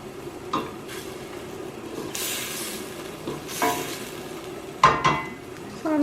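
Callaloo, a Jamaican brand, cooking in a pot while being stirred, with a soft sizzle, scraping utensil strokes and a few sharp clinks of metal against the pot, close and moderately quiet.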